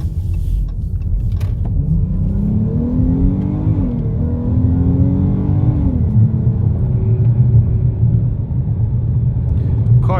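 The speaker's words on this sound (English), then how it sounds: "Car gets up there quick, dude." A 2019 Dodge Charger GT accelerates hard. Its loud engine note climbs in pitch, drops back at a shift, then climbs again over a steady road rumble.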